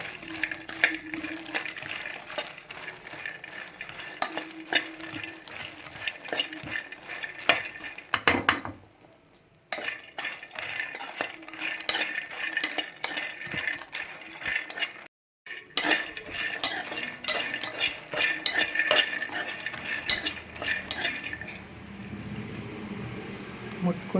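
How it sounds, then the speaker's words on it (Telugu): Phool makhana roast in melted ghee in a kadai, a spoon scraping and stirring steadily against the pan under a soft sizzle, while someone talks throughout. "వేయించుకుంటే ఇట్లా ఇట్లా క్రిస్పీ అయిపోవాలన్నమాట అట్లా వేయించుకోవాలండి"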